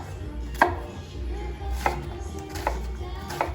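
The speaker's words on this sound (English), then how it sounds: "I'm gonna just roughly chop 2 onions" Two onions being roughly chopped with a knife on a board, four sharp, evenly spaced chops over a low background hum, close and clear with no talking.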